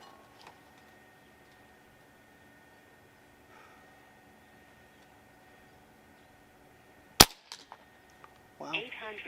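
A Crosman Prospect .22 PCP air rifle lets off a single sharp, close crack, followed by a faint ticking and brief rustle in an otherwise quiet setting.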